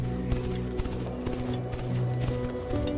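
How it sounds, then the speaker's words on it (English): Horses move through flooded grasslands in Los Llanos, Venezuela, their hooves giving a steady clip-clop rhythm of splashy thuds under a background music bed. "You can ride horses through flooded grasslands"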